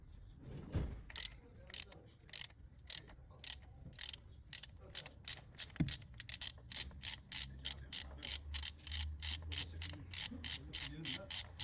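A ratchet wrench turns out car spark plugs one by one, with rapid even clicking strokes in steady bursts, loud and close, alongside a few heavier clunks and brief speech.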